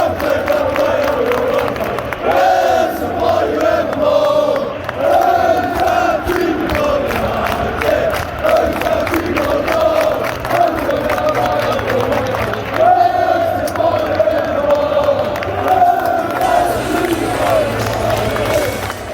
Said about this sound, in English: loads of cheering